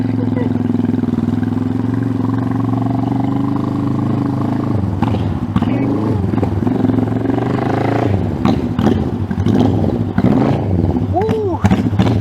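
A 1971 Honda CB350 motorcycle with chopped exhausts runs loudly and steadily after sitting for 50 years, its engine note rumbling throughout with a few revs toward the end while voices talk over it.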